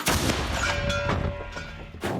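Artillery fires: sharp, powerful gun blasts ring out, a few booming shots with rumbling decay between them, heard close and loud without voices.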